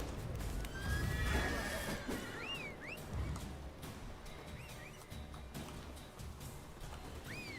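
A horse whinnies a few times over steady outdoor ambience and low rumbling, with rising-falling neighs standing out at moderate distance, in the video game The Witcher 3.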